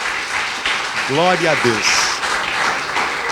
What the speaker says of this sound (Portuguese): E dê uma linda salva de palmas ao Senhor Jesus.